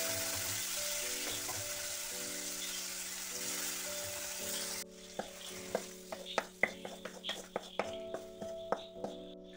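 Cooked chicken tipped into a pan of onions fried with chilli powder sizzles steadily for the first half, then gives way to a run of sharp clinks and scrapes from stirring, with faint background voices.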